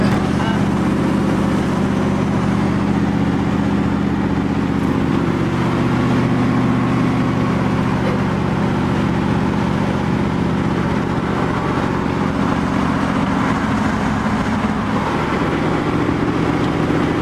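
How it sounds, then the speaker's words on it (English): Steady, loud engine rumble from a running LS-swapped third-generation Pontiac Firebird exhaust, droning continuously without clear revving or breaks. "Try to make some exhaust sounds."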